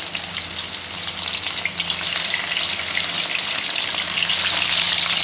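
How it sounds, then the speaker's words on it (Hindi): Fish frying in hot oil in a frying pan, a loud, steady, dense sizzle that holds and swells slightly throughout, close up with no talking. "ऑयल हमारा गर्म हो गया, फिर हम अपनी फ़िश डालेंगे।"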